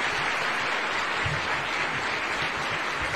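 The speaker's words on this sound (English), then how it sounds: "Feel free to give him a warm reception with a hand clap as he's walking in." An audience at the St John Ambulance annual inspection parade at State House, Nairobi claps to welcome the president, a steady, dense applause sustained throughout.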